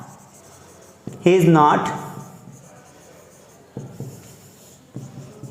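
Marker strokes on a classroom board while writing out an English sentence, a few short taps and scrapes spaced a second or so apart, following a brief spoken word.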